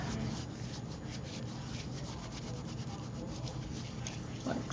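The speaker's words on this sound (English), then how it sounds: "And you just scrunch it up" Hug Snug seam binding ribbon being scrunched up by hand gives a continuous close soft rustling and rubbing with steady texture, no talking.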